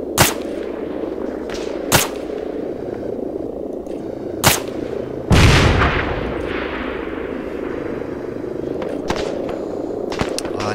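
Sharp, loud gunshots from Arma 3 King of the Hill play on Zaros, with several isolated cracks spaced a second or two apart and one heavier blast that rings out over a steady background rumble.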